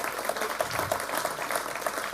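Applause rises from an audience at an awards ceremony, a steady, dense patter of many hands clapping that continues evenly throughout.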